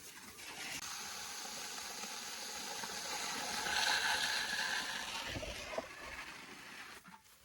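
Hot water rushes from a garden irrigation line with a steady hissing spray that swells in the middle, then tapers with a few soft knocks near the end.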